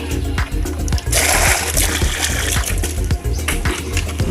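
Water sloshes and splashes loudly as a bucket is hauled up from a deep well, with a strong pour in the middle, a gush and trickle around it, and faint birds in the background.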